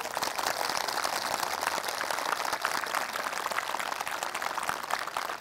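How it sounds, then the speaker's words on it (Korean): An audience at a Buddhist talk during a pilgrimage to Sarnath, India, breaks into applause: dense, steady clapping that keeps an even level for the whole stretch without a break. "이게 박수 한 번씩 쳐봐요."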